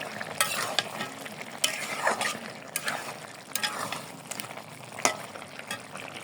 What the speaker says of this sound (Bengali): দেখেন মাছটা দিয়ে দিছি আর একটু কষাই নিছি।